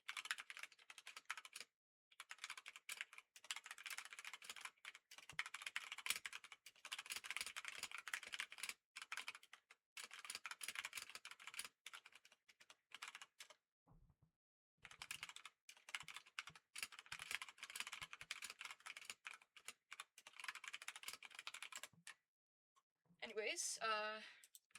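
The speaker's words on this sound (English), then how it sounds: "Oops, one second, I've got to type something to someone." Someone types in bursts on a computer keyboard, with rapid close key clatter broken by short pauses, while a voice talks intermittently and a brief sound occurs near the end.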